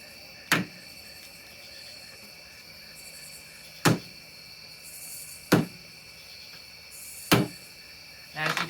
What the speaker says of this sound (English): I'm going to try to hammer this nail into the board with the banana.